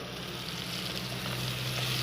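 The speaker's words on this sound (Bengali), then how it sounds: "মশলা ভাজছি" Spices fry in oil for a chicken leg curry, making a soft, steady sizzle with no breaks, heard faintly in a quiet kitchen.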